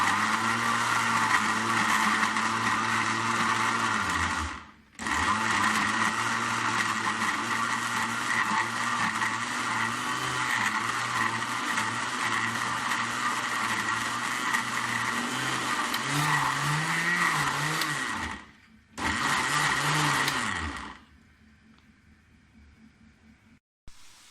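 A blender runs with a loud, steady mechanical whir and grinding, making a garlic, ginger, tomato and chili paste, with pitch shifts, stopping briefly twice and cutting out near the end.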